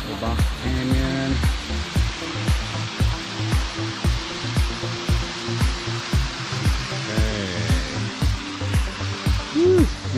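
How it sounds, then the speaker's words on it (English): Roaring rush of a waterfall dropping into a box canyon at Chain Mill Falls in Hanover, Indiana, a steady broadband wash with regular low thumps and faint voices over it. "that's a pretty killer waterfall"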